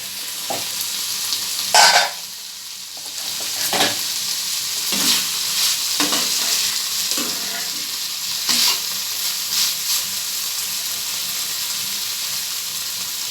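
Cauliflower sabzi being stirred and sautéed in a pan with coriander leaves, a steady sizzle broken by several scraping stirs of a spoon against the metal, close and alone without talk.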